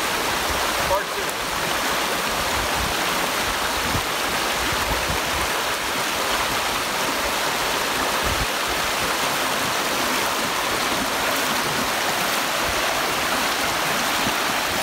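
Steady rushing water of a flowing river in the Porcupine Mountains, running high after rain, loud and continuous, with broadband churning and no pauses.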